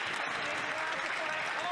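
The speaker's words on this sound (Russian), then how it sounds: "обратите внимание вот на эту женщину, она сейчас аплодировала" Steady applause from an audience at a press event, a dense wash of clapping at moderate distance that runs unbroken throughout, with a faint voice underneath.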